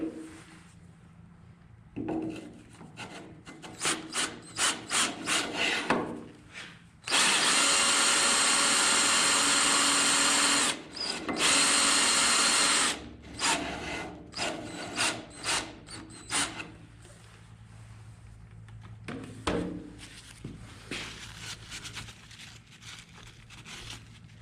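Lapping compound worked through an AR-15 upper receiver for a 6.5 Creedmoor build gives repeated rasping, rubbing strokes in short bursts, with two sustained loud gritty runs in the middle, close up and with no talk.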